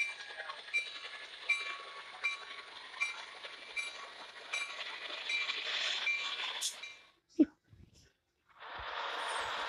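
A Union Pacific train passes in New Mexico, a steady loud rumble with rhythmic clickety-clack wheel beats and metallic clinks for several seconds, then cutting off abruptly; a voice talks over it.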